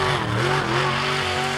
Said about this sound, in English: a Chevrolet 350 series engine developing between 700 and 900 brake horsepower